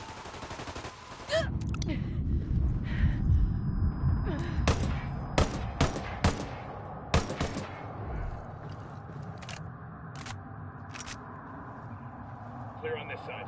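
Gunfire rattles through a Ghost Recon Wildlands firefight, with bursts of automatic shots and sharp single cracks spaced out over the stretch. Loud rumbling movement fills the first half, and voices speak at times.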